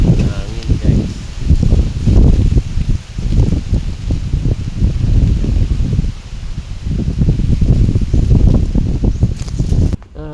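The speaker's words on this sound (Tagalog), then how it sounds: "Hangin, guys." Wind blowing through a field of cassava plants, loud continuous rustling and buffeting with gusty microphone noise, close and unbroken for about ten seconds.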